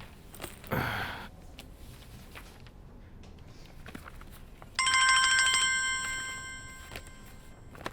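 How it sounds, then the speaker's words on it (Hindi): A telephone bell rings clearly for about a second, loud and close, after a brief earlier burst of noise and over a quiet room background. "हेलो, फोन बज रहा है, सुनाई नहीं दे रहा?"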